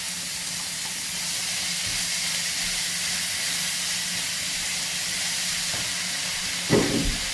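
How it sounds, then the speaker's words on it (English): Vegetables sizzling in a hot stir-fry pan, a steady broad hiss holding for the whole stretch with a brief louder crackle near the end, no talking. "Now we'll get those veggies stir frying."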